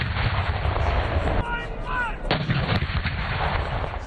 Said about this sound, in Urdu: نماز فجر کے بعد دن کا آغاز وفاقی دارالحکومت میں 31 اور صوبائی دارالحکومتوں میں 21 توپوں کی سلامی سے ہوا۔